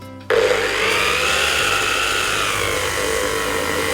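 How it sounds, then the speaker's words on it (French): Reclaimed old wooden boards sanded with 80-grit sandpaper on a power sander, starting abruptly and holding as a loud, steady abrasive whir and rasp, close by and alone. "c'est parti pour le ponçage. Je suis en grain 80 et je finirai avec un grain 120."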